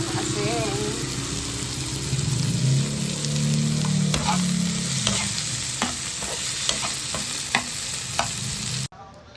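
Tomatoes sizzle in a frying pan while a utensil scrapes and stirs them, a steady close frying hiss with a warbling tone early on and sharp clinks of the utensil against the pan before it cuts off abruptly.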